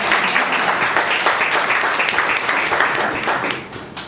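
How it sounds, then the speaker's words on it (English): Loud, close applause from a gathered audience at a meeting, many hands clapping in an even, continuous roar that holds steady and then tapers slightly at the end. "Please give him a big round of applause."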